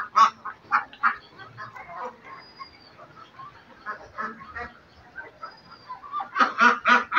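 Young Khaki Campbell ducks, about six weeks old, quack repeatedly in a farm pen under a concrete-roofed building enclosed by plastic netting; a lively flock of overlapping, fairly close calls rises in bursts and swells louder toward the end.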